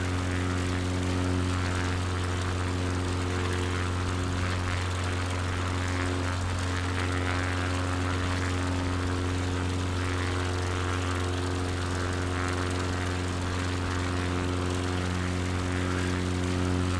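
A bush plane's propeller engine in Microsoft Flight Simulator 2020 over Alaska, throttled back to about 70%, drones in a loud, continuous hum with a steady low pitch and no pauses.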